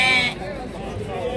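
Sheep bleat at a livestock market in Beylagan, a loud nearby bleat at the start followed by fainter ones amid crowd noise, with people talking throughout.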